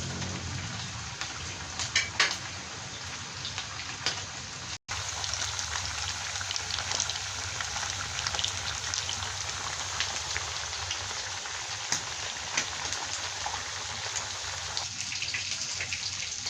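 Mackerel fillet sizzling in butter with garlic and ginger in a pan: a steady, dense crackle and spatter that runs without a break and stays moderately loud, with a brief gap partway through.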